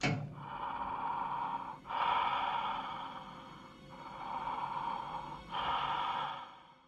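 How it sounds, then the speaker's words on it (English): Slow, heavy breathing of a diver sealed inside a JIM atmospheric diving suit in the 1981 film For Your Eyes Only, with long hissing inhales and exhales alternating in a steady rhythm, close and eerie, with no talking. "Music kicks in and we hear a really creepy breathing."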